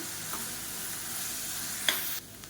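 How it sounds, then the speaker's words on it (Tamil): Onions sautéing in hot oil for tomato chutney give a steady, close sizzle with a faint scrape or two, ending in a brief clatter before the hiss drops away. "இப்போ வெங்காயம் நல்லா வதங்கிடுச்சு"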